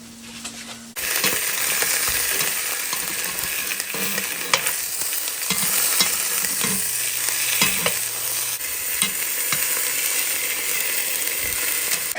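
Bratwurst sausages fry in a little avocado oil, a loud continuous sizzle that starts abruptly and holds steady, scattered with clinks and scraping of a utensil against the pan.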